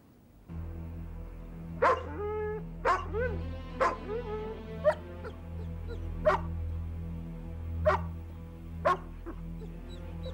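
A dog barks sharply several times at irregular intervals, close by, over a low steady hum.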